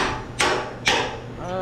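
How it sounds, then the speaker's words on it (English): Two loud hammer blows strike a utility trailer being stretched into a car hauler, spaced about half a second apart, each a sharp broadband impact with a short ringing decay over steady background noise. "You need a hammer"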